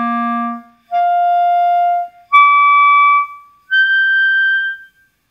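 A clarinet held on a single low C fingering squeaks through its partials, producing four clear sustained tones separated by brief gaps, each pitched higher than the one before, played alone.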